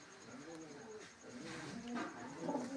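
A mother pigeon with yellow eyes coos softly in a loft, low rolling murmurs repeating over a steady faint hum, with no one talking.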